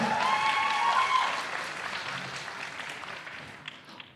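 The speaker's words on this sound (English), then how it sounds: "Please give a big round of applause to Suki" Audience applause at the Valhalla World Cup 2024 offline grand finals, a broad wash of clapping that starts loud alongside a bright sustained musical tone and gradually fades over a few seconds.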